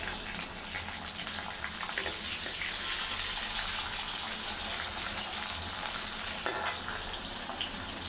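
Mustard seeds, onion and tomato frying in a pan, a loud continuous sizzle and crackle heard up close throughout, with occasional stirring scrapes and no talking.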